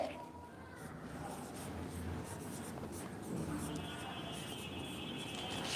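Chalk or marker writing on a board during a sixth-grade Bengali lesson, with continuous faint scratchy strokes close by and a teacher speaking quietly over them.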